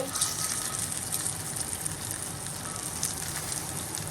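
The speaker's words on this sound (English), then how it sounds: "I'm gonna go ahead and pour all of that delicious braising liquid" Braising liquid for a chipotle barbacoa pot roast pours steadily into the pot, a continuous close gush and splash that holds even for several seconds with no talk.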